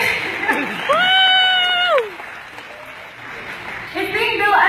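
An audience claps steadily at a live launch event, a dense patter running through the clip while a high whoop or whistle rises over it and voices join near the end.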